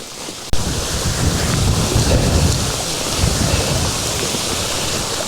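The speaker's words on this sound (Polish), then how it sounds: "Leje na nas jak z rynny." Heavy rain pours down during a thunderstorm on a mountain hike on Madeira, a dense, loud, steady roar of downpour with deep rumbling underneath and no voices.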